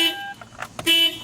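A car alarm blares nearby in two loud horn-like honks separated by a short gap, with faint rustling in between.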